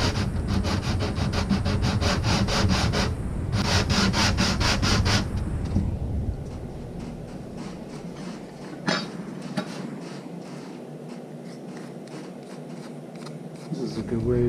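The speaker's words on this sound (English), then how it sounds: "we need to make sure that the bridge is sanded to the arch of the top" Rhythmic rasping strokes of sandpaper on wood as an acoustic guitar bridge is sanded to match the arch of the top, loud and close in bursts, then quieter irregular rubbing continues.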